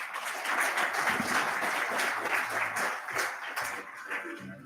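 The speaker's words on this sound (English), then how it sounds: "let's give another round of applause" Guests at a formal thought leaders dinner clap together in a sustained round of applause, moderately loud and fairly close, tapering slightly toward the end.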